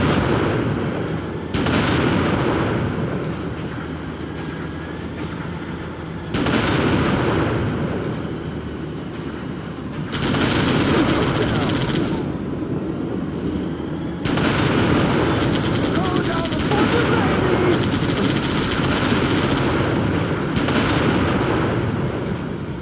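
Sustained bursts of gunfire and booming artillery from the video game Halo: Reach come in several long loud stretches separated by brief lulls, dense and continuous with no talk.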